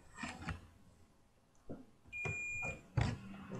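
A continuity tester probing a pin on a CP Plus DVR LAN socket gives a short steady electronic beep in the middle, surrounded by brief clicks and handling noises from the probes.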